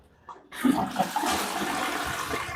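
A Cotto two-piece washdown toilet is flushed, with a quiet click followed by a sudden loud rush of swirling water that stays steady and close, without talk.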